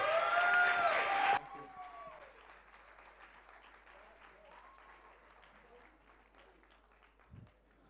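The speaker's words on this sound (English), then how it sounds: "Give them a round of applause." Round of applause at a dance film festival awards night: a loud burst of music cuts off, then scattered, fairly faint audience clapping continues with some crowd murmur and a brief louder thump near the end.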